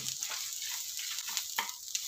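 Coriander, dal and tamarind dry-roast for chutney with a faint steady hiss and light irregular scrapes and rattles as a spoon stirs the pan.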